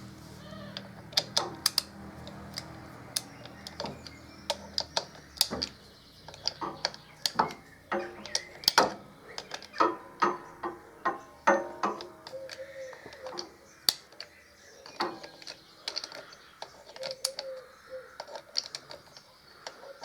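Clutch fasteners being undone on a 2002 Harley-Davidson Dyna Wide Glide, with scattered close metallic clicks and ticks of tools and bolts at an irregular rhythm in a quiet workshop.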